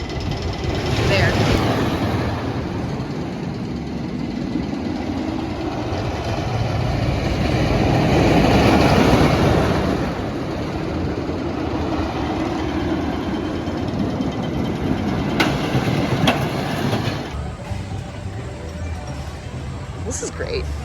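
A wooden roller coaster at Michigan's Adventure rolls along its track with a sustained, swelling rumble and clatter that builds to a peak and then eases, heard from close by.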